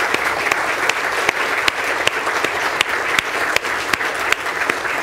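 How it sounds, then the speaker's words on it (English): A live audience at a public talk on space exploration and health applauds a speaker, dense steady clapping with sharp individual claps standing out, loud and continuous throughout. "can I just ask for a round of applause, please, for Dr. Donal O'Gorman."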